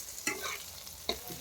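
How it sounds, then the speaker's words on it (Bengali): Pointed gourd (potol) frying lightly in a pan, a soft steady sizzle broken by two scraping strokes of a spatula, quiet and close with no talk. "হালকা করে ভাজতে হবে।"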